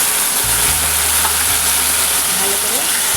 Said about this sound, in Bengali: ভাজা হয়ে গেছে, এবার এই শাকটা এর মধ্যে দিয়ে দেবো।